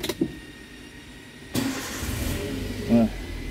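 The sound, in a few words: Toyota Avanza 1.5 Veloz car engine starting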